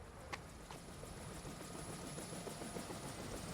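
A helicopter flies overhead in the dating game Date Everything, a steady broadband rotor drone that holds at an even level for several seconds with faint rhythmic beating and no talk.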